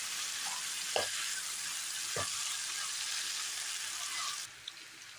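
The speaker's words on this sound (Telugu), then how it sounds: "ఇది అడగంటుకోకుండా కంటిన్యూషన్ మనం తిప్పుకుంటూనే వేయించుకోవాలి" Potatoes fry with crushed garlic in a pan, giving a steady close sizzle with a few sharp scrapes as the pan is stirred.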